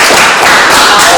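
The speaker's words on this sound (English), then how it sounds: "Please clap for them" An audience claps for performers at a poetry event, a dense, steady wash of many hands filling the short moment without pause.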